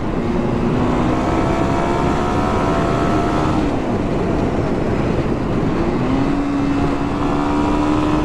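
A 2024 Kawasaki KLX300 motorcycle runs at full throttle, a loud, steady engine drone heavy with wind rush, with its pitch sagging and climbing again midway.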